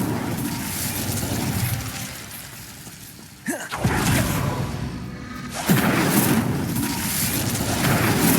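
A fire spell cast in Hogwarts Legacy: a sudden burst around the middle flares into a roaring, crackling whoosh, with a second surge shortly after, loud and close against a steady game ambience.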